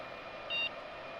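A single short electronic beep from the train cab safety system in a train simulator game on a New York to New Haven run, clear over a steady low cab hum.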